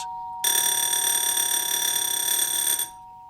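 A loud electric bell rings steadily for over two seconds with a rich buzzing tone, then stops abruptly, leaving a faint hum.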